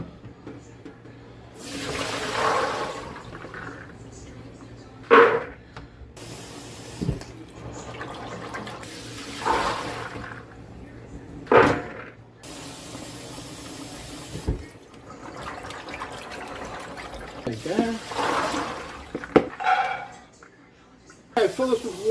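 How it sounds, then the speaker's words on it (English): Tap water pours into a bowl of soaked chickpeas in a kitchen, coming in several short bursts under a person's talking. "Fill that bowl all the way up with water"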